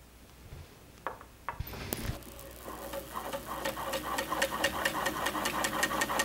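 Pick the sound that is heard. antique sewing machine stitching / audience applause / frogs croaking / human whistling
antique sewing machine stitching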